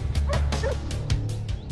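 Search dogs used to locate a body barking and yipping in short, excited bursts, several close barks in quick succession with a whimpering edge.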